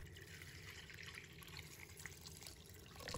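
Dried shiitake mushrooms are rinsed by hand in a bowl of clean water, with soft close splashing and dripping at a low level and no talking.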